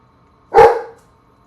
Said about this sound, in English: Oh, my dog says hello.